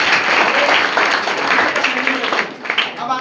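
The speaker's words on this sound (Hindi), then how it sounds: "एक बार फिर से ताली एक बार।" Students clap together at a school assembly held during an anti-drug pledge event at a middle school in Daniyadi. The applause is loud, steady and close, with voices mixed in and the clapping tapering slightly near the end.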